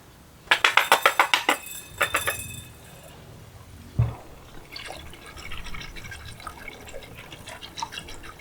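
Highly reactive lime is poured slowly into liquid while making lime sulphur, giving a quick run of sharp pouring splashes and clinks, a second short burst, a single thud, then faint fizzing and bubbling.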